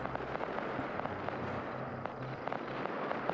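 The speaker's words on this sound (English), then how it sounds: "The UN using rocket artillery." Rocket artillery in a video game, a rapid crackling series of sharp launches and distant bursts layered over a low rumble.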